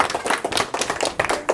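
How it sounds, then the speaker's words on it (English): A small theatre audience at a live magic show claps briefly, a quick, close patter of hands lasting just over a second. "Give these guys a big round of applause."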